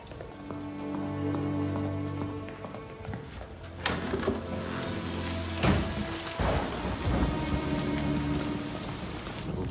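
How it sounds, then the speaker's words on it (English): Steady rain pattering over a low drone, with a few sharp cracks and rumbles of thunder breaking through, fairly faint and distant, no talk. "a storm."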